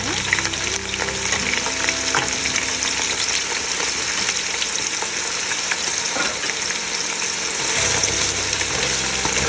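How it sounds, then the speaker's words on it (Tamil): Chopped onion and green chilli frying in hot oil for chicken dum biryani, a loud steady sizzle and crackle running throughout with occasional stirring scrapes, close up and without voices. "கொஞ்சம் அது ஹீட் ஆனதுக்கப்புறம் நீங்கள் ஆனியனும் சில்லியும் போடுங்க"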